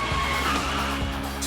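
A car braking hard and skidding on a test track during a speed-camera stunt test, with a steady loud broadband tire roar and engine rumble throughout, no speech.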